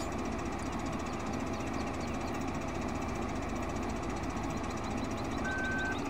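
A grain cart tractor's engine runs steadily throughout, a loud, continuous low diesel rumble with a knocking idle texture and faint higher mechanical whine, no talking.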